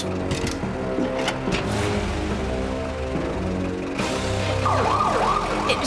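A loud ambulance siren wails close by, its rising and falling sweeps swelling near the end over a dense rumble of noise.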